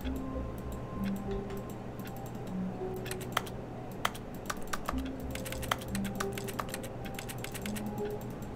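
Rapid keyboard typing in The Stanley Parable: Ultra Deluxe, an irregular run of light clicks and taps with a few sharper keystrokes over a steady low hum, close and moderately loud with no speech.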